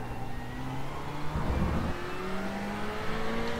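Race car transmission whine in iRacing, a steady high gear whine with rising and falling tones over a low engine drone, heard alone in the cockpit.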